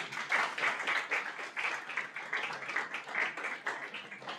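An audience at a talk on social violence claps steadily, a dense rhythmic patter of many hands filling the room at a moderate level without pause.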